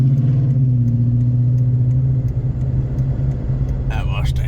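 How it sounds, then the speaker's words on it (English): A Ford Mustang engine rumbles past with a deep, steady low growl that fades after a couple of seconds, and a voice speaks briefly near the end. "that Mustang sounds really nice"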